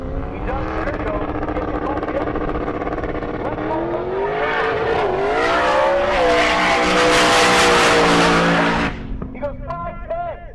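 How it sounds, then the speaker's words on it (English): Turbocharged drag race car at a race week event, engine droning and climbing as the turbo spools, then a loud roaring launch with tire noise before it cuts away, under an announcer talking over a PA. "Trying to get that turbo spooled in this really, really bad air."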